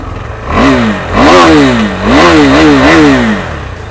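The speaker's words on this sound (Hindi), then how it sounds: "Let me just make you listen to the exhaust." A KTM 390 Adventure's single-cylinder exhaust is blipped several times, with loud rising and falling revs in close succession, each burst climbing sharply in pitch and then dropping back toward idle.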